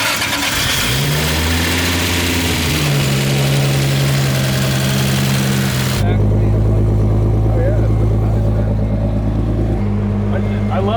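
A high-mileage Toyota Supra built to about 801 wheel horsepower starts up and settles into a loud, deep, steady idle with a brief blip of revs, as voices talk over the engine.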